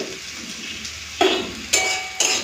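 Bitter gourd slices frying in oil in a covered pan, a steady soft sizzle with a few sharp clinks of the lid or utensil against the pan.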